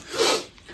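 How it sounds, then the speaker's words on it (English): A single short rasping rub, a brief scratchy swish of a small sanding pad disc against a slingshot that swells and fades within a second. "I'm going to do a bit of sanding"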